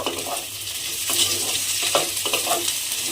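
Tomato added to jackfruit frying in a pan gives a steady close sizzle with light stirring scrapes over it, continuous and even throughout.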